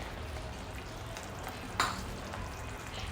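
Yogurt mixture and masala paste being stirred into gravy in a pan, a soft continuous sizzle with light scraping strokes and one sharp clink partway through.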